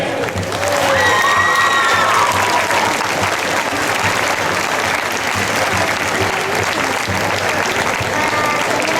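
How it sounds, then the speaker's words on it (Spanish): A large crowd applauds a Serbian folk group at the Mundoculturas 2019 gala in Blanes, a dense, steady roar of clapping that holds for the whole stretch, with scattered shouts and a voice briefly heard over it. "Fuerte aplauso para Tamava U, Serbia."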